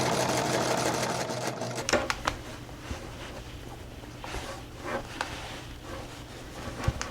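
A serger overlocks and finishes fabric seams on a sewn collared top, running in a steady close mechanical whir with brief clicks and bumps between stitching bursts, with no talking.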